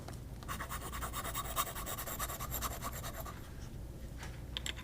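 Pen nib loaded with vibrant red ink scratching across textured Amalfi paper, a dry, gritty rasp like sandpaper that runs steadily for several seconds, close and fairly quiet.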